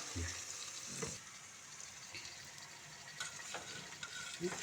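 Tomatoes and spices frying in a large pan over a low gas flame, a quiet steady sizzle with intermittent stirring scrapes and clinks close by.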